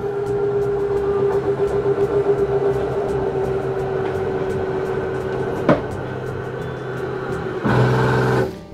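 A 2022 Forest River Sabre 37FLL fifth-wheel RV slide-out motor runs steadily at full extension, giving a continuous mechanical drone with a sharp click near the end, then a brief louder ratcheting burst as it stops.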